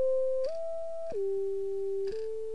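Reason Subtractor's Juicer 2 synth patch plays a few clean held tones that step between pitches with small clicky attacks, quiet and steady, with no voices.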